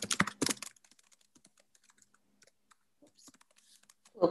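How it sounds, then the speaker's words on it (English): A short burst of close computer-keyboard typing at the start, followed by sparse faint clicks and a quiet stretch, then another brief burst at the end. "So at the top here, I'm just going to type"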